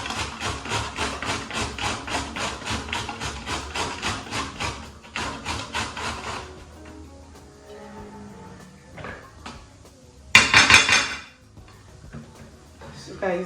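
Coconut is grated on a hand grater with a fast run of rhythmic rasping strokes, close and fairly loud. After a pause comes scattered tapping and handling, then a short harsh scrape.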